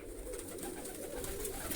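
Pigeons coo low and steadily in bad, windy weather, under a constant wash of wind noise.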